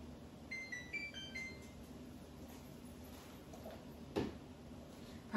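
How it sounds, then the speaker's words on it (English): A kitchen timer beeps in a short run of quiet electronic tones while a steam canner runs for home canning, followed by a soft knock and faint background hum in an otherwise calm kitchen. "that's my timer telling me that I have round about under a minute left to go on those items"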